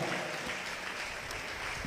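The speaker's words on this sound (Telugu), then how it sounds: "గట్టిగా చప్పట్లు కొట్టండి, గట్టిగా కొట్టాల." A congregation claps loudly together at a church sermon, a dense, steady wash of applause that is fairly distant and carries no voices.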